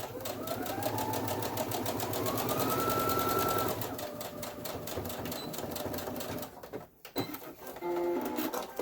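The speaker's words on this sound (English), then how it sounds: "So I'm going to go right over that stitch that was already there from the finished edge." A sewing machine runs steadily up close, stitching back over an existing seam along a finished fabric edge. Its fast mechanical whirr pauses briefly near the end, then resumes.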